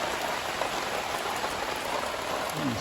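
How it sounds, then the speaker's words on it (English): Rain patters on a concrete job site under a clear blue sky, a constant close hiss of drops hitting surfaces with no talking. "Blue skies and it's raining."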